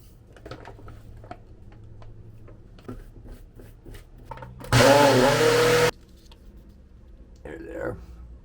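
A blender whirs loudly for about a second, blending a smoothie of frozen berries, flaxseed and chia seed, with faint clicks and movement before and after.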